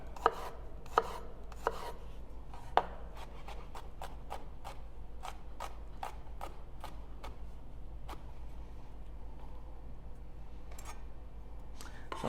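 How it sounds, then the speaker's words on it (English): A knife chops a red onion on a cutting board in a home kitchen, giving a steady run of sharp, close, evenly spaced taps over a faint low hum, with no talking. "Then we're going to cut some onion."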